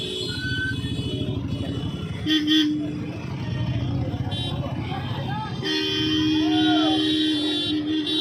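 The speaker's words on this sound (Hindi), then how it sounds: "ये जिलाधिकारी की गाड़ी, SSP की गाड़ी आगे बढ़ जा रही है।" Official district vehicles carrying the district magistrate and SSP drive past at an inauguration event, with several short and sustained horn blasts over a steady traffic rumble, while people talk in the background.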